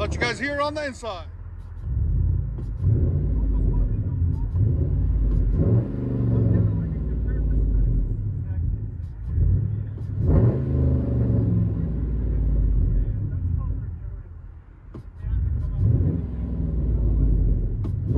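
Inside the cab of a 2012 Ram 1500 with a 5.7L Hemi V8, true dual exhaust and muffler delete, a deep, steady exhaust drone and rumble fills the space, swelling with a few revs as voices talk throughout.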